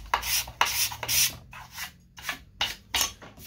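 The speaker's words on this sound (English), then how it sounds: "So, card scrape before sanding" A card scraper rasps across cured epoxy, leveling it flush with a wood surface in a series of short, close scraping strokes with brief pauses between passes.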